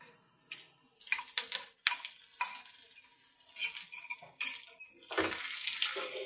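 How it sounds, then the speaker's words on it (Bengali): A spatula scrapes and clinks in a frying pan as rice is stirred together with chopped onions and green chilies, a series of sharp metallic taps and scrapes followed by a softer sizzling rustle near the end. "আমি ভালোভাবে নেড়ে ছেড়ে এই পেঁয়াজের সাথে ভাতটাকে মিক্স করে নিব।"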